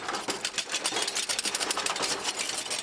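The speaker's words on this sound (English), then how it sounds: "we're about to do some sounds for this roller coaster" Dense, rapid mechanical clattering rolls on steadily, like a roller coaster's wheels and chain rattling along the track, loud and close with no voices.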